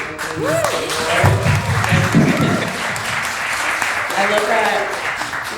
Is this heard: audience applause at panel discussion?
yes